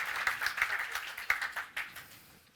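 Scattered, moderately distant applause from a conference audience at a radio industry summit, with a stream of individual claps that thin out and fade toward the end, with no speech.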